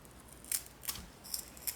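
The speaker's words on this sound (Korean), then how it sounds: "머리 지느러미를 가위로 잘라내요." Kitchen scissors snip through the head and fins of a dried pollack in four crisp, quiet cuts spaced about half a second apart, with no talking.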